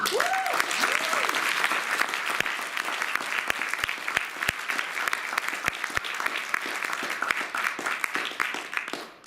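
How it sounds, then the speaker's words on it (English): Audience applause for the poets at a poetry reading, steady dense clapping throughout with a few sharper individual claps standing out, moderately distant, with a brief voice near the start. "give one more round of applause to all the poets who came up earlier"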